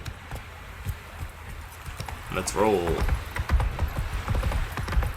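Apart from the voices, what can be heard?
horse hooves clip-clopping in video game Witcher 3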